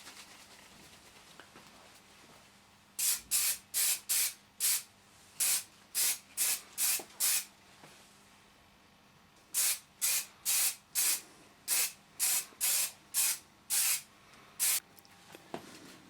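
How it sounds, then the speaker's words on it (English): Aerosol spray can misting brass door furniture during refurbishment: two runs of short, sharp hissing bursts in steady rhythm, close and loud, separated by a quiet pause, with no talking. "we're just going to give everything another spray"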